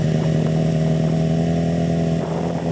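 A motorcycle engine runs steadily at close range, a loud continuous mid-pitched throb with a pulsing firing rhythm and slight swells in revs near the end, alone without voices.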